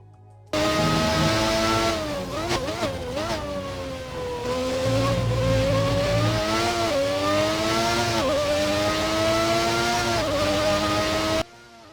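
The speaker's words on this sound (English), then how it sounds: "that was the sound of V12 from 1990" Simulated 1990 V12 Formula 1 engine in the F1 2019 racing game during a flying lap: a continuous high-pitched wail that climbs through the revs, dips briefly at gear changes and rises again, loud and steady throughout.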